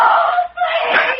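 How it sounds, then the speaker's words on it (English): A woman's scream in an old radio drama, loud and sustained, with a brief dip before a second rising shriek, heard alone. "She screamed."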